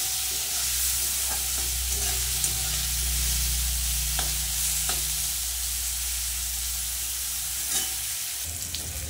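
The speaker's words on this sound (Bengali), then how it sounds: "উচ্ছেটা হালকা একটু ভেজে নেব।" Bitter gourd coated in salt and turmeric fries in hot oil, giving a steady, close sizzle with occasional soft stirring scrapes and crackles throughout.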